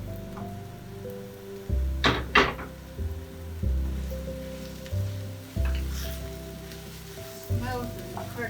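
Onions and mushrooms frying in a pan make a steady close sizzle, with a few louder crackling bursts and stirring scrapes.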